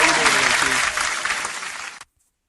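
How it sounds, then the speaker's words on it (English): Loud, dense studio audience applause and cheering for a guest on a talk show, with voices mixed into the clapping before it cuts off abruptly to silence. "I want everyone to give a round of applause for Palmer Alexander"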